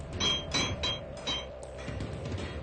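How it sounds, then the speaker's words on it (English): A work crew hammers rivets home by hand during a long shift, with about four sharp metallic strikes in an uneven rhythm over a low background rumble. "In a 16-hour shift, this crew hammers home some 700 rivets."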